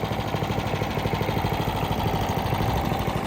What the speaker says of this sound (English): we'll go ahead and let that warm up there for a few minutes to show you how it idles